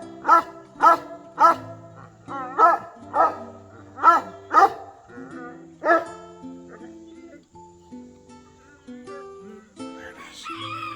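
A Russian Caucasian Ovcharka whines in a series of high, nasal cries, about eight evenly spaced whimpers, then quieter whimpering and faint background sounds.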